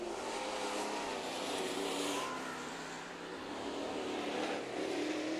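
Race cars run a heat race on the Santa Maria speedway track, their engines a distant, steady roar with faint swells as cars pass, spread across the whole stretch without any close pass standing out.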